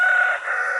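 A brief snatch of a rooster crowing, close and fairly loud, cut off partway through the call.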